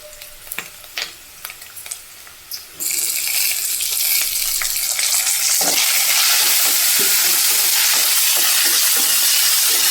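Tomato pieces frying in a pan for semolina upma sizzle loudly and steadily after a few soft clinks and stirring taps, then the hiss swells and keeps going, close and continuous, with occasional scraping.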